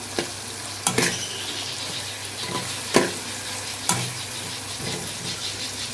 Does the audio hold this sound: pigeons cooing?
no